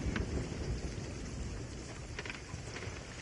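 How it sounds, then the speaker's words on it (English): Heavy rain in a video game, a dense continuous hiss with low rumbling like distant thunder, heard alone and fairly loud throughout. "No, it's still raining."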